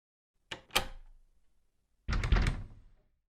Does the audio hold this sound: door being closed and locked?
yes